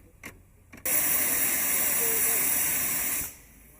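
Steam hisses loudly from a locomotive on the Isle of Man Railway, a sudden sustained blast that starts after a couple of brief bursts and stops abruptly near the end.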